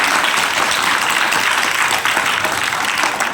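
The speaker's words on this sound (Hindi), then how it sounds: "इसी को याद ताली लगाओ।" A large audience at a motivational talk breaks into loud, sustained applause, a thick wash of many hands clapping close and continuous throughout.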